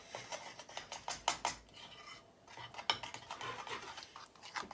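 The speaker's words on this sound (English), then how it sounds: "Just gonna stir the icing sugar." A spoon stirs icing sugar in a bowl while mixing gooey icing for decorating gingerbread men. Rapid, uneven scraping and clinking strokes repeat close up for several seconds, pausing briefly midway.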